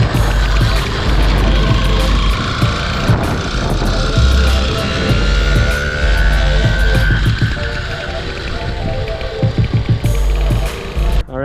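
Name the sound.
2-stroke motorized bicycle engine passing by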